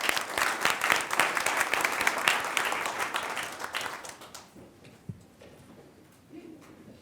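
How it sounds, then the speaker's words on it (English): Audience applause at a Board of Education meeting for the Northwest Junior group, dense clapping for about four seconds before tapering to a few scattered claps and quiet room noise. "A round of applause for Northwest Junior"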